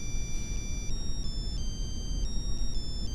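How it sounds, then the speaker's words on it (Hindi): A mobile phone plays an electronic ringtone, a high beeping melody of shifting steady tones that repeats continuously over a low background hum. "फोन बज रहा है आपका।"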